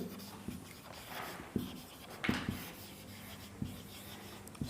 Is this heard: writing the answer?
yes